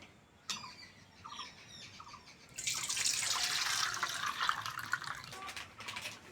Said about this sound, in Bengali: জল গরম হয়ে গেছে ঢেলে নেব